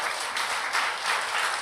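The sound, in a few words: congregation applause in church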